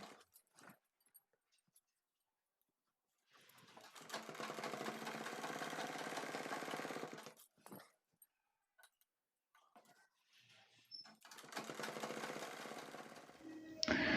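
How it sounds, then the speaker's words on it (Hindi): Domestic sewing machine stitching the waistband of a six-panel petticoat, running in two long steady whirring bursts with near silence and small handling noises between them. "तो चलिए इसके ऊपर हम सिलाई लगा लेते हैं।"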